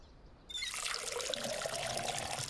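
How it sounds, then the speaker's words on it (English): Water pours from a can onto plants in Schedule 1, a soft steady trickle starting abruptly and running continuously, fairly quiet and close. "I'm gonna water my plants before we leave."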